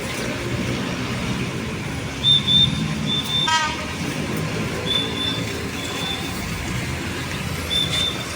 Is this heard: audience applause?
no